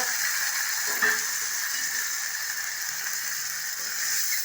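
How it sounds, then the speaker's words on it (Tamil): Onions and curry leaves sauté in hot oil with cinnamon and curry masala, giving a steady, even sizzle that runs the whole time, with one faint scrape of a utensil near the start. "இதை நல்லா நம்ம வதக்கிக்கலாம் வதங்கட்டும்"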